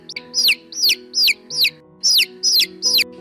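Young farm chick peeping in a steady series of seven shrill, downward-sliding cheeps, close and clear with even spacing and no talking.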